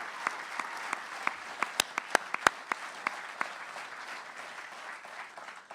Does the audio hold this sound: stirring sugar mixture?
no